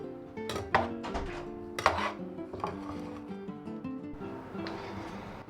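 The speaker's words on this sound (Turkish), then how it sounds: "Sevgili lezzet dostları son biberlerimizi de doğradık" A knife knocks on a cutting board as peppers are chopped for eggplant and chickpea musakka. Several quiet, irregular thuds and clinks sit over soft background music.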